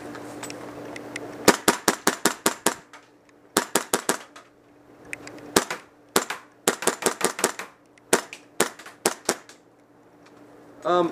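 A KJW CO2 gas blowback airsoft 10/22 rifle fires in rapid strings of sharp, loud snapping shots with clacking bolt cycles, grouped into bursts separated by short pauses.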